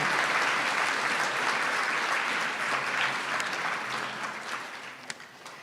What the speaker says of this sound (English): let's give each of our board members a round of applause